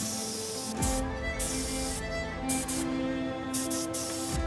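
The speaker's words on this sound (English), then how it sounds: "So now I spray it with black chocolate to color match the plate." A spray gun mists black chocolate onto a dessert plate in a handful of short hissing bursts separated by brief pauses, close and fairly quiet.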